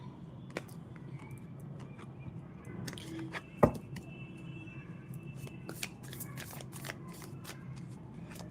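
Tarot cards are shuffled for a love card pull in a series of soft riffling flicks and taps, close and fairly quiet, with one sharper snap partway through.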